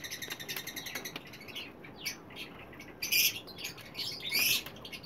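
Small chirps and squawks from diamond pied doves and their chicks in an aviary, a faint busy twittering throughout with a few louder calls close by near the end.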